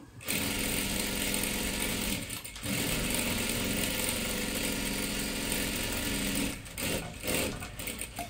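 A sewing machine stitches a kurti and salwar in a loud, steady mechanical whir that briefly pauses twice before running on.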